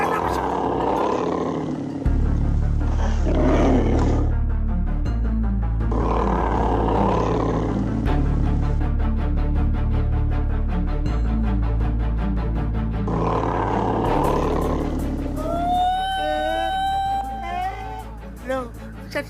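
Tigers roar in a dramatic drama scene, deep rumbling roars layered over a sustained low score, loud and close, with people shouting and talking between and over them.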